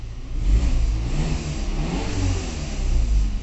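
A Volkswagen Tiguan with its original stock exhaust revs close by, a deep, loud, rumbling engine note that swells and eases while staying strong throughout.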